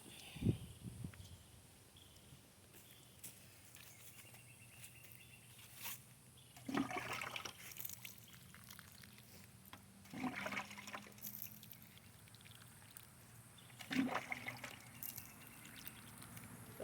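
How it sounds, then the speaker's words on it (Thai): Water poured over freshly potted jasmine cuttings in potting soil, sounding as a few soft splashing and trickling bursts separated by quiet gaps, close by with no talk. "หลังจากเสร็จแล้วเราก็ลดน้ำนะคะ เดี๋ยวเราไปลดน้ำกันอีกรอบ"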